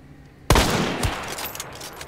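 Gunfire in a video game, a sudden loud burst of shots after a short quiet lead-in, with a second report following and a trailing rumble, no talk over it.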